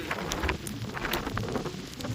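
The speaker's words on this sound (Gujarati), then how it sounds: "फुल बारिश शुरू हो गई" Steady rain hissing broadband with scattered louder drops and spatters, a continuous wash of sound with no voices.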